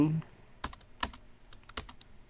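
Typing a search on a computer keyboard, a few sharp separate key clicks at an uneven pace, close and fairly faint, following a brief bit of voice at the start.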